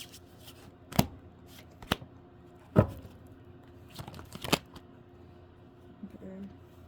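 Tarot cards being shuffled make several sharp riffling bursts and slaps at uneven intervals, close and moderately loud, with quiet rustling in between.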